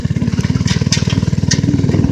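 A small pusher-style motor on an old Murray girls bike with a rock-hard rear tire runs close by in a fast, even chugging putter that stays loud and steady throughout.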